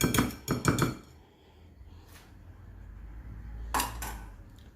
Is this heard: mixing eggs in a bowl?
yes